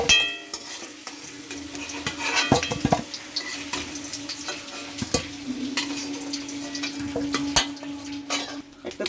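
Spice paste fries in a pan under a light sizzle, with sharp metallic clinks and scrapes of a spoon against the pan scattered through it.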